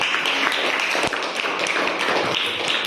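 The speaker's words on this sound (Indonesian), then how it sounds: "Tepuk tangan" A small classroom group applauds steadily with scattered, overlapping claps, moderately close, continuing for a few seconds without speech.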